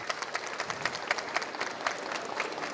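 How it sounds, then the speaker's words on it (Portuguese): Audience applause fills an industrial innovation fair panel at MEC SHOW 2023, a steady wash of many hands clapping at moderate distance with no clear speech over it. "Pode aplaudir, gente."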